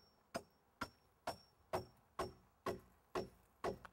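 A toenail is hammered into a wooden joist block with eight evenly spaced, sharp hammer blows about half a second apart, close and clear with nothing else around them.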